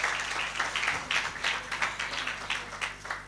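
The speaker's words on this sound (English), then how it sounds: "Can we give a round of applause to Rukia?" A round of applause at a business incubator showcase event, an audience clapping in rhythmic bursts at moderate distance with no voices over it.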